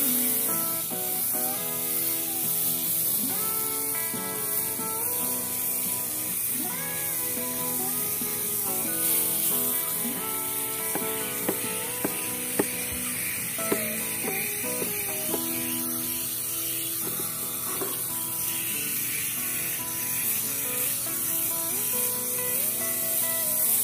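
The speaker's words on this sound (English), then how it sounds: "I'm just gonna give this a little spray and get it cleaned down" A continuous hissing water spray cleaning gold-prospecting equipment after running beach sand runs for a long stretch, with steady whooshing and faint clinks and bumps of equipment underneath.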